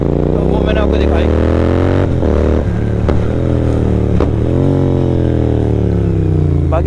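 Royal Enfield GT 650 motorcycle fitted with a Moto Torque exhaust, revving loud and close. Its deep, throaty engine note swells up and down in several blips and rises in pitch, with crackling from the exhaust between revs.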